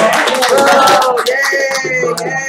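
A game show studio audience claps and cheers for a contestant in a brief burst of applause mixed with voiced whoops, loud and close, with the crowd's voices ringing over the clapping.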